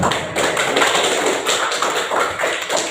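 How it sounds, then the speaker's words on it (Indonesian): Applause from students in a classroom, a dense and steady patter of clapping hands that keeps going for about three seconds, with no talking over it. "Saya berikan aplaus dulu."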